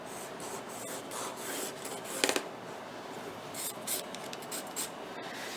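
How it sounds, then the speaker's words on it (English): A pen is drawn across the top of a remote control organizer, a close, dry scratching and rubbing. The scratching comes in short repeated strokes with a few sharper ticks, quiet and steady, with no talk. "Just draw across the top, just like that. Make it nice and straight."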